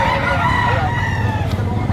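Roosters crow at a gamecock auction market, overlapping calls carrying over steady crowd murmur and background noise.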